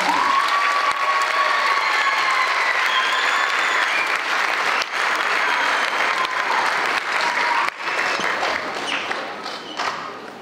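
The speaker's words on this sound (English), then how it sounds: "If we could have one more round of applause." An audience at an advanced bands spring concert gives a long round of applause, a thick, continuous roar of clapping with a few faint cheers that holds steady for the whole stretch before easing slightly near the end.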